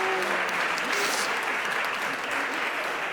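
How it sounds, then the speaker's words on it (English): A congregation applauds at a Sunday worship service, steady dense clapping filling the room throughout, with a few cheers and a voice briefly speaking over it. "Oh, she's clapping for herself."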